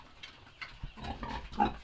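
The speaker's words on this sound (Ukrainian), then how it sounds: "Тут ще у нас є свиня" A pig grunts and snorts several times in short, low bursts, fairly faint and close by, with a louder grunt near the end.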